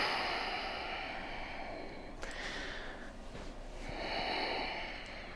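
Slow, steady breaths during a pelvis stability exercise, heard close and soft as a continuous airy inhale and exhale, with a louder push of breath near the end.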